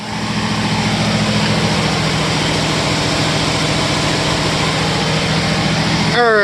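An opened car engine runs at a loud, steady, low rumbling idle with a rhythmic pulse throughout, and a brief change in tone near the end.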